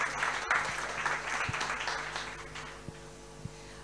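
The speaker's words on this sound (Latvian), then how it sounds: "Aplausi lūdzu visiem dalībniekiem," An audience at a symposium claps for the participants, a moderate burst of applause that thins and fades toward the end, leaving a few faint scattered claps.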